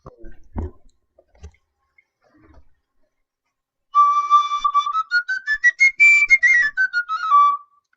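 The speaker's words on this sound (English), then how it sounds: "I'm going to be playing it in G on a D pipe" A tabor pipe pitched in D is played in G, a bright, pure whistling melody of quick stepped notes rising and falling over a few seconds, heard alone after a few faint knocks and near-silence.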